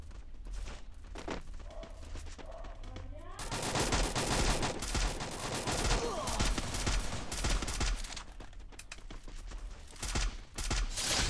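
Gunfire in the Free Fire battle royale game, rapid bursts of automatic shots building into a dense, sustained barrage after a quieter opening, with game effects underneath.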